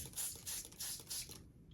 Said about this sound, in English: spray it with water and flatten it first, right? Warm water